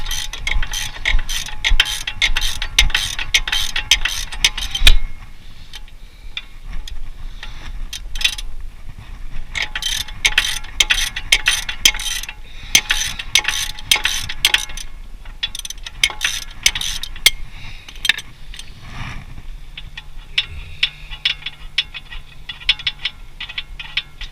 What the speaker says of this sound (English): I'm using a regular ratchet.